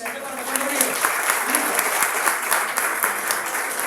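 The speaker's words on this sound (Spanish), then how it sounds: "Denle un fuerte aplauso a Dios" Loud, steady applause from a church congregation filling the whole stretch, with a voice faintly audible underneath.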